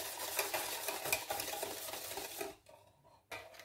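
Batter for anise doughnuts being whisked by hand in a bowl, a rapid scraping, clattering rhythm that stops briefly near the end before resuming, close and moderately quiet.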